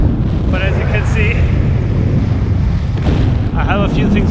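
Gusty wind buffets the microphone during an early-morning motorcycle ride, a constant loud rumble that fills the whole clip, with a voice talking over it.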